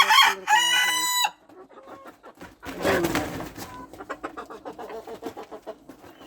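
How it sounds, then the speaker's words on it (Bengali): On a very cold winter morning, a rooster crows loudly near the start, followed by a run of steady clucking from two roosters and four hens close by. "এই দুইটা মোরগ এখানে চারটাই মুরগি"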